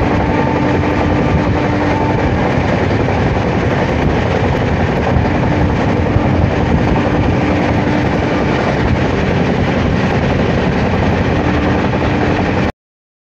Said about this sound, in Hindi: Dibrugarh town Rajdhani express